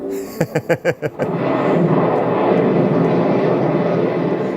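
A film explosion: a quick series of sharp bursts is followed by a loud, sustained rumbling roar that fills the rest of the moment, with no talking over it.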